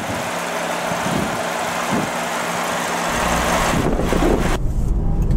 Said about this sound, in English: Okay, so setting off in the WRX